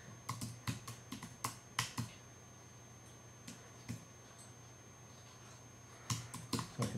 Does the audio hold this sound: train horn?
no